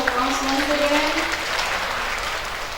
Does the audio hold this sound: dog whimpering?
no